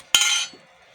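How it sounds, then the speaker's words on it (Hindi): A lid is pressed shut on a container of homemade mixed pickle: one sharp, close clink with a short ringing tail that fades within half a second. "तो अब ढक से बंद कर देते हैं"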